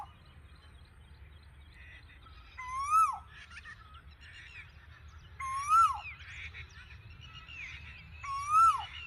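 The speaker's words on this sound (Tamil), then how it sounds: "நிறைய குயில் இருக்குங்க." Asian koels call from a tree, three clear, evenly spaced whistled notes that rise and then drop, each standing out over a faint low background hum.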